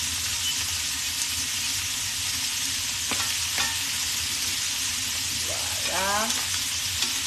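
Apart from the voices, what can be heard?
beef cheek pieces browning in a pan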